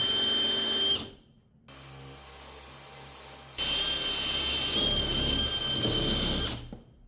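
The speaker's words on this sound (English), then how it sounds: "the hard part about drilling this hole out is a lot of times you get a lot of stuff caught in there" A power drill spins an arbor bit through a door: a loud, whining burst, a brief stop, a lower-pitched restart, then a strong full-speed run before cutting out.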